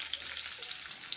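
Onions fry in a pan for Bansi rava upma, a brief, dense, close sizzle with crackling, steady throughout, no talking.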